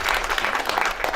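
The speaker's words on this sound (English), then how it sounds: "yes, you can clap that." Audience clapping at a groundbreaking ceremony for a clothing and textile facility, a dense steady burst of applause from a crowd, brief and fairly loud with no voices.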